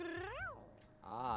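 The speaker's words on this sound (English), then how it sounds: "Did she just purr at me?" A Sim in The Sims 3 gives a close, cat-like purring call: two sliding, tonal phrases that rise and fall, with a short pause between them.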